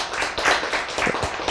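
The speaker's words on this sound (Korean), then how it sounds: "박수 치려니까 상당히 불편하시죠?" A congregation claps together during a church sermon, a short burst of scattered, fairly loud hand claps with no voices over it.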